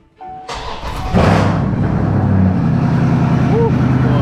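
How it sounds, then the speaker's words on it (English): A 2020 Dodge Charger Scat Pack V8 with its current exhaust, aftermarket Hooker long-tube headers fitted, cold-starts with a starter whir and sharp catch, then settles into a loud, steady, deep idle rumble nearby. "I'm gonna go ahead and give y'all the last little cold start of the current exhaust on the channel."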